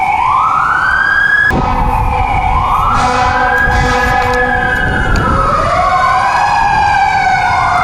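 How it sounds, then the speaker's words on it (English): A loud, close fire truck siren wailing, its pitch sweeping up and down in overlapping tones over a rumbling engine. "We got the fire trucks."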